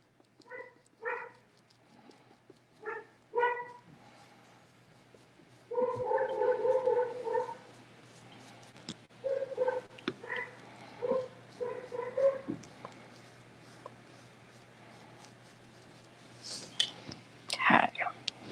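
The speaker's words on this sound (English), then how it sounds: "the dogs heard something or somebody." Several dogs give short yaps and huffing barks indoors in a painting studio, brief bursts scattered across the stretch with quiet gaps between them, fairly close and moderately loud.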